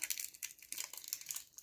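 Plastic packaging being crinkled and torn open by hand, close and fairly quiet, a rapid series of crisp rustles and crackles with short pauses between handfuls.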